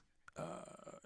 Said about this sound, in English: Bubbly drink makes me burp.